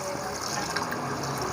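Chicken broth (yakhni) pours into a pot of chicken pulao, a continuous splashing, gushing liquid sound that stays steady and close throughout.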